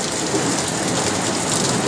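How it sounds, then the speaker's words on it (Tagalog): Heavy storm rain pours down in a dense, continuous hiss on surfaces, loud and unbroken for the whole stretch with no talking. "Lakas ang ulan."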